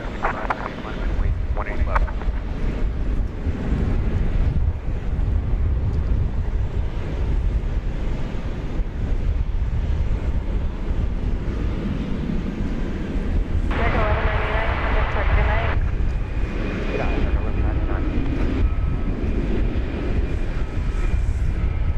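A ten-year-old Airbus A319 rolls for takeoff at DFW Airport on Flight 1406 to San Antonio, Texas. A steady, loud roar of engine and wind noise runs throughout, with a voice talking over it.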